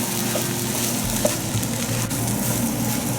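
A paneer, almond, onion and fresh breadcrumb mixture cooks in a pan with salt, giving a steady, close sizzle and faint frying crackle, with occasional light scrapes from stirring.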